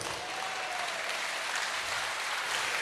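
A church congregation applauds in steady, dense clapping that fills the room without a break, loud and close, with only faint crowd murmur beneath.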